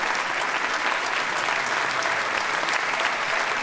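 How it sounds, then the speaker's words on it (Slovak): Sustained audience applause at a theatre premiere, steady dense clapping from a large crowd filling the hall without a break. "my vám ďakujeme za váš potlesk"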